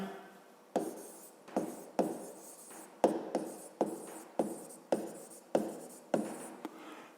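Chalk or marker strokes tap and scrape across a board as a math solution is written out, about a dozen short, crisp strokes in an uneven rhythm, close and fairly quiet, with no voices.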